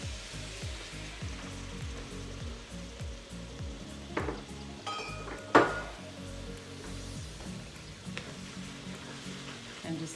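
Sauce sizzling and cooking down in a pan, a close crackling fry with rhythmic stirring and scraping, a few sharper pan knocks midway; no talking.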